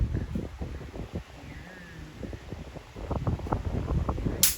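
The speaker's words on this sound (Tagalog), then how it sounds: "Lakas ng hangin, galing dito. Ayan sobrang lakas ng hangin." Gusty wind buffets the microphone in rough bursts, building louder toward the end, with a faint steady hum beneath.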